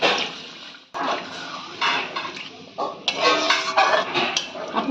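Water is poured into a pan of spiced Bengali potato curry (aloo dum), splashing and sizzling in uneven bursts, with short pauses and clinks of the pan, close up.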